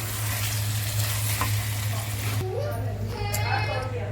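Onions fry in a pan for eggplant bharta with a steady loud sizzle, someone speaking over it while a voice and clattering dishes come and go nearby.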